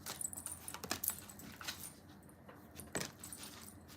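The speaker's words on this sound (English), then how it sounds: "I'm gonna shuffle 2 more times." A deck of tarot cards is shuffled close by: quiet, crisp papery bursts of riffling and flicking come in short clusters with brief pauses between them.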